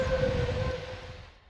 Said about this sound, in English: It's not a long wait before the whistle of the next train is heard rolling down the line